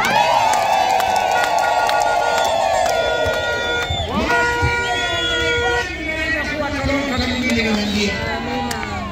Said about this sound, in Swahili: Piga vigelegele na Mungu.